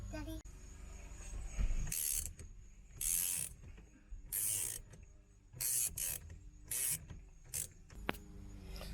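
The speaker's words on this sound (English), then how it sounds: "I'm gonna see if I can't get the puller on there and get this steering wheel" A puller works on the steering wheel of a Ford F150 with a stripped hub, giving repeated bursts of bright mechanical whirring and ratcheting, about six in all, with brief pauses between them, close to the microphone.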